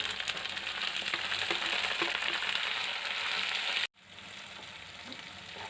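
Steady, dense sizzling of cluster beans and potatoes frying in hot oil with onions, continuous and close, with a brief cut near the end before the sizzle resumes slightly quieter.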